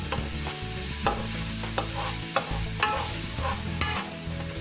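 Crab for an oyster-sauce dish frying in oil in a pan as it is stirred, a steady close sizzle broken by repeated scraping clinks of the utensil against the pan, with no talking.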